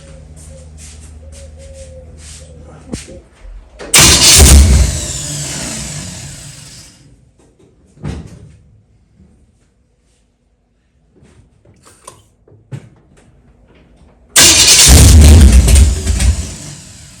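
A 1965 Chevrolet Nova engine fed by a Holley double-pumper carburetor, heard in two loud revving bursts separated by quieter idle and mechanical clatter, recorded up close.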